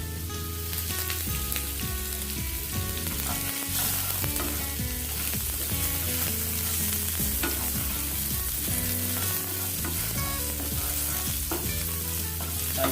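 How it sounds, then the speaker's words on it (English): Onions cook slowly in a pan with salt and pepper for vegan shammi kebabs, a loud continuous sizzle and frying crackle with occasional stirring, alongside background music and no speech. "And slowly cook it till the time the onions become translucent in color, and add some salt and pepper."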